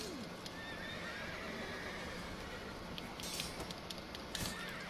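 Roach, the horse from The Witcher 3, neighs and clip-clops in a gallop amid game combat ambience, with a steady noisy background and a few sharp impacts late on.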